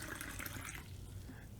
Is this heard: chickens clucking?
no